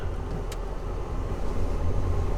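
A Jaguar F-Type R with a torque converter automatic creeps backward in reverse. Its engine gives a low, steady idle rumble that is fairly quiet and swells slightly toward the end.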